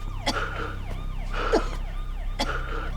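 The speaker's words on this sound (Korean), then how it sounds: "어디선가 들려오는 경찰차 소리" A police car siren in a Korean TV drama wails in repeated rising and falling sweeps, somewhat distant, interrupted by a few short, sharp bursts of noise.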